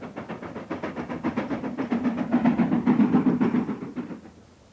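A steam locomotive chuffs in a steady, rhythmic beat with hissing steam, loud and close, then fades away over the last second.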